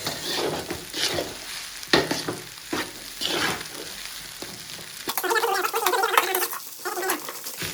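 Fried rice stirred in a pan over a full flame, a steady sizzle broken by repeated scraping stirs, close and fairly loud, with the frying growing denser toward the end.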